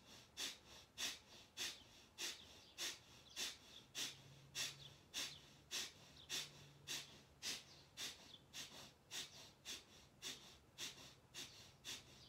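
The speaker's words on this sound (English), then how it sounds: "we're going to do breath of fire" Breath of fire yoga breathing, a steady series of quick, forceful nasal exhalations, about two per second, close and fairly faint, with no talking.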